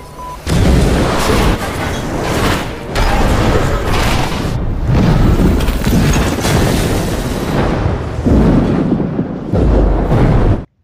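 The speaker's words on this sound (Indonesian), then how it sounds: "Setelah terjadi ledakan" A loud, sustained explosion in an action film about special forces, with heavy booming rumble and crackling debris rolling on for several seconds before cutting off abruptly.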